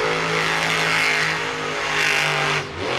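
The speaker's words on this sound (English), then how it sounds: "Little donut in there." A monster truck at a Monster Jam arena event in Nashville roars loud and close as its engine revs hard through a donut, holding a sustained throaty howl before a sudden dip and quick re-rev at the end.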